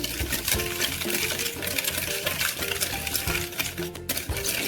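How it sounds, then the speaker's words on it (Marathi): A spoon stirring a yogurt and sugar mixture for a semolina cake, steady rapid scraping and clinking against the bowl, close and continuous without a break. "आता हे आता हलवत राहायचं बघा"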